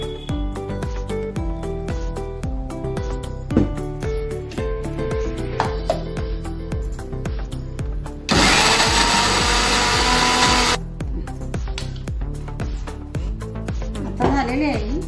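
Close-up kitchen mixer grinder blending raw mango chutney with garlic and a drop of water, a loud steady burst of motor whirring lasting a couple of seconds in the middle, with someone talking before and after it.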